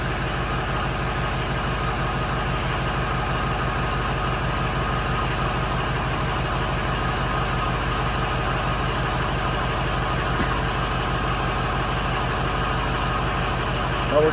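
A 2007 Ford F250 Super Duty with the 6.0 diesel engine and FICM faults idles steadily up close, its low, even rumble running constant and unbroken throughout, with no talk.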